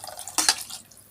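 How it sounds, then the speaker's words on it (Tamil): Water splashes briefly into a pot of South Indian sambar cooking with cooked lentils. It makes one short, close splash that quickly fades. "இன்னும் கொஞ்சம் தண்ணி ஊற்றிக்கலாம்."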